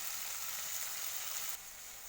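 Prawns fry lightly in a pan, giving a soft, even hiss that drops slightly in level partway through; no talking.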